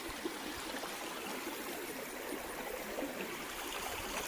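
Creek water flows steadily over rock and through water plants at Hillabee Creek in Alabama, a continuous close broadband rush and trickle with no pauses and no voices.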